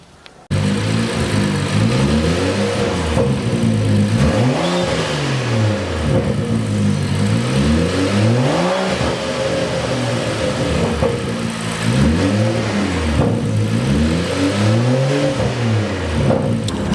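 A BMW M235i fitted with a Dinan intake starts up and then revs repeatedly, each loud nearby rev swelling and falling back to idle several times in a steady rhythm.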